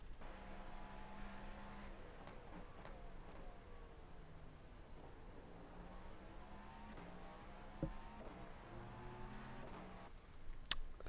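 A GTP prototype race car in the iRacing simulator running flat out at Daytona, giving a faint, continuous engine drone whose pitch rises and falls through gear changes, with no voices.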